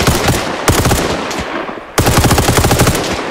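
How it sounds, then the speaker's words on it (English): Sustained automatic gunfire in Arma Reforger as a full magazine is emptied into bushes, two long loud bursts of rapid shots separated by a brief pause near the middle. "Empty the mag into the bushes."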